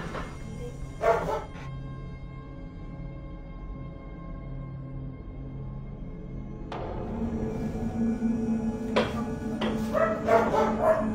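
Dogs inside a house bark in short bursts, with a couple of yips rising over a steady low background hum and a few sharper noises near the end.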